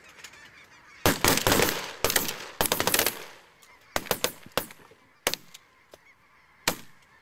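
Shotgun blasts ring out during a snow goose hunt over a rotary decoy spread: several rapid volleys of sharp, close shots in clusters, then scattered single shots, amid constant honking from the flock.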